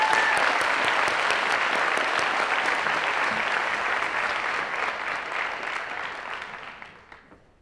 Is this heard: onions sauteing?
no